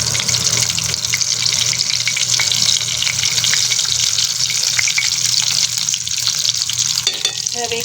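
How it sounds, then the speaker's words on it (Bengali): Fish fingers shallow-frying in a pan over steady heat, a continuous loud, close sizzle and crackle that holds evenly throughout, with a faint clatter just before the end. "একটু লাল লাল করে কিন্তু ফিশগুলোকে আমি ভেজে নেব"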